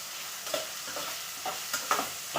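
Brinjal fries in oil in a pan, with a low hiss under a few soft scraping stir strokes that come roughly every half second, close by and fairly quiet.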